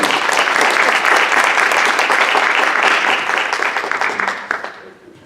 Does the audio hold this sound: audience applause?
yes